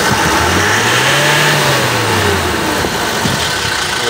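An Isuzu Travis engine with a low-power problem is revved from idle, its pitch climbing and then falling back over a few seconds, loud and close, with no talk.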